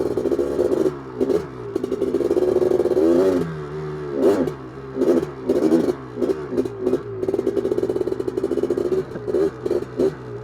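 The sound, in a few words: 1985 Honda 250R engine revving, running poorly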